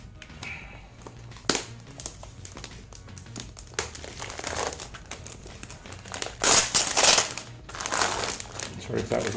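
Plastic wrapping crinkles loudly as an HP Envy 17.3-inch laptop is pulled from it, in irregular close rustling bursts that peak near the end, with a voice heard at times.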